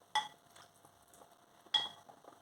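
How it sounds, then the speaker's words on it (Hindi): Two sharp metallic clinks of a spoon against a pot while chicken soup is stirred with cornflour being added, spaced over two seconds with faint scraping between, quiet and close. "अब हम इसमें थोड़ा थोड़ा करके कॉर्नफ्लोर डालेंगे और साथ हिलाते जाएंगे"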